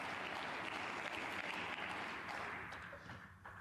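Sustained applause from a snooker crowd at a German Masters tournament, coming from other tables. It is a broad, steady wash of clapping that holds for several seconds and then thins slightly at the end, heard at a distance.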